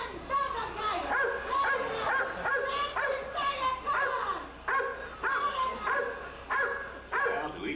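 Repeated dog barks and yips in a steady rhythm, fairly close and loud, over a low steady hum in an animatronic stage show setting.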